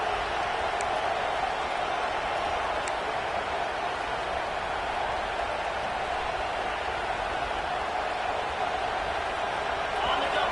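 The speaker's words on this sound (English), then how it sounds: "This crowd, full throat, splitting the eardrums and letting him know it's going to be a long day." A college football stadium crowd at an Arizona State at Florida State game roars in a steady, loud, dense wash of noise that holds for the whole stretch without a break.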